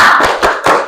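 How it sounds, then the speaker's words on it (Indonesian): A class of students claps the 'tepuk guha' rhythm together, a quick sequence of three loud, close group claps in a school classroom. "Kita tepuk guha dulu ya."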